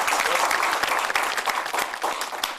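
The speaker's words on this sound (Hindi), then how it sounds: "एक बार जोरदार तालियां बजाना चाहता हूं।" Audience applause at a kavi sammelan, a loud, continuous burst of many hands clapping with sharp individual claps standing out, fairly close and unbroken throughout.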